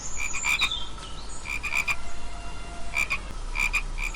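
Cartoon frogs croak together in repeated short bursts, several calls overlapping in clusters with brief pauses between, fairly loud and close over a steady background hiss.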